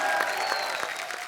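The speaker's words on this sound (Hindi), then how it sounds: "तो जोरदार तालियां बजाएं, किसके लिए?" Studio audience at a comedy talk show clapping together in a sustained burst of applause, crowd-wide and fairly even, with no talking on top.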